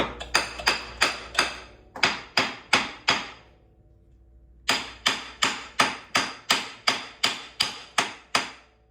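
Close, loud hammer blows on a Honda Rancher 350 ATV's left rear axle during bearing replacement, struck in steady bursts of about five, a pause, then a long even run of metallic taps.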